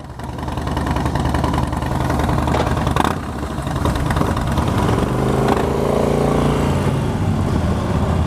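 Motorcycle engine fitted with a stage 1 upgrade runs steadily at close range, a loud continuous throb that swells briefly around the middle with a throttle blip, with no talking over it.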